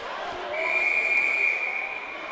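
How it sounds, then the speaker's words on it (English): A referee's whistle sounds with one long, steady, shrill blast at a varsity high school ice hockey game, over a constant hum of arena crowd noise. "Whistle is blown."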